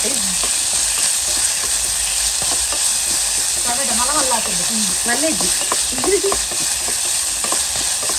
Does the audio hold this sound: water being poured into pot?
no